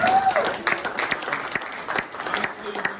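Audience at a state assembly forum applauding, a sustained crackle of clapping from a crowd in a hall, steady and fairly loud with a voice speaking over it.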